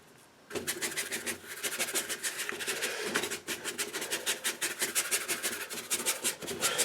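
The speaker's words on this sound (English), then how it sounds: "just rub down a little bit with some fine sandpaper" Fine sandpaper rubbing down an MDF board by hand, a steady run of quick rasping back-and-forth strokes, close and fairly loud, continuing without pause and with no talking.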